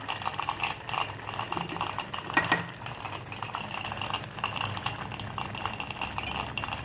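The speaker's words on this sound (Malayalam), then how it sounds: "ഒന്ന് ഇളക്കാം" A spoon stirs and scrapes through a pan of idichakka (tender jackfruit) curry with mustard seeds, making steady clinking and scraping sounds at close range with no talking.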